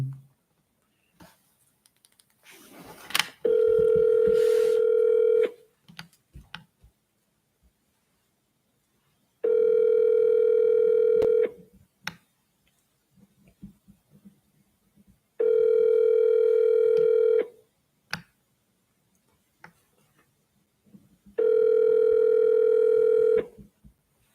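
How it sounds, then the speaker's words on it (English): A cell phone call ringing out, with four long, loud, evenly spaced ringback tones, each about two seconds long and separated by pauses filled with faint clicks and handling noise, before the call connects to voicemail. "Call them off my cell phone"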